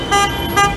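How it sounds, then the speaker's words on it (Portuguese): Car horns blare outside a city hall during a protest motorcade, a dense chorus of sustained honks with two louder bursts, close and continuous. "Na porta da prefeitura, um buzinaço, cobrando justiça para a morte de Cássio Remes."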